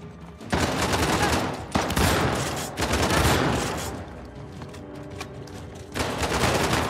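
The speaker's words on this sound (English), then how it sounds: "This shotgun got some good range on it, though." Shotgun blasts and other gunfire in the video game Uncharted: The Lost Legacy, several loud booming shots in quick succession over a busy combat din, with a brief lull near the end.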